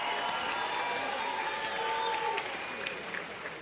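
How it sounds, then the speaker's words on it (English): Arena crowd at a boxing event applauds the fighters, a thick continuous roar of clapping with some cheering mixed in, steady and fairly distant before tapering slightly at the end. "let's give both of these fighters a big round of applause."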